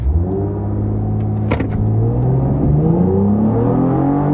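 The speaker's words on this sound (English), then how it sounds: "we'll do a quick little brake torque launch here, just to see how it is" A 2025 Cadillac CT5-V sits in sport mode for a brake-torque launch, its engine droning loud and steady with rising, wavering pitch and a brief click partway through, heard from inside the cabin.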